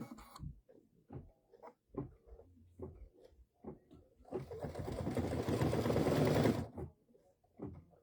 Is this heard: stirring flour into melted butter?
no